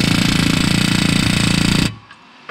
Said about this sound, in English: if you hammer on it right here or anywhere on this edge